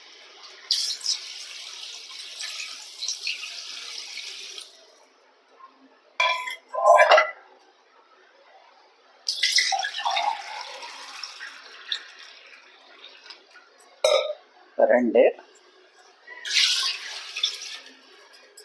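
Water poured into a cooking pot of chicken for seeraga samba rice biryani, in three separate splashing pours with pauses between, while someone talks.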